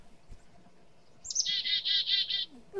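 Recorded bird calls played back in a lecture hall: a rising chirp followed by a quick series of five bright, evenly spaced tweets, clear over faint room noise.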